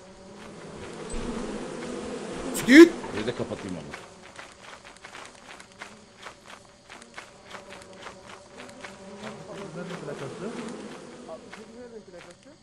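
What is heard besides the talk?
bee hive buzzing in the video game Lethal Company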